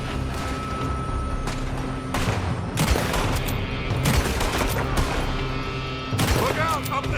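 Gunfire from the video game Red Dead Redemption, with bursts of shots from a building ringing out over a dense, noisy battle bed, louder volleys recurring through the scene under voices.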